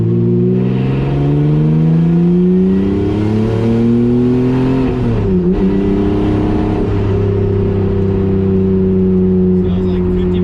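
A turbocharged BMW E36 pulls hard at half throttle, its engine note climbing steadily and loudly up close, with a voice talking over the rising drone.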